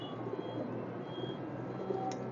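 Soft, low cooing from a red-barred pigeon in a moulting racing loft, a steady murmur running under a faint background hum with no voices.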